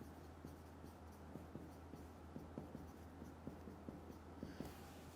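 Pen scratching across paper while a math solution for a ninth-grade logarithm problem is written out, a steady run of small strokes and taps over a low constant hum, no talking.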